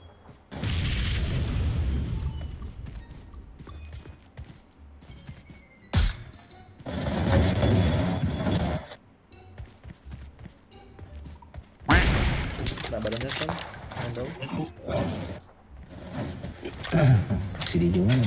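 Gunfire and booming blasts in the mobile battle royale game PUBG Mobile, arriving in several loud bursts separated by quieter gaps, with players talking over the action.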